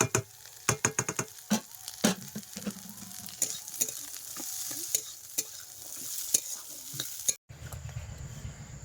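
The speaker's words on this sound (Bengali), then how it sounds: "আর বরবটির দানাগুলো ভালো করে ভাজছি" Yardlong bean seeds and potato fry with powdered and green chilli in a pan, a steady close sizzle broken by sharp scrapes and clacks of stirring, ending in a brief near-silence and then a softer frying hiss.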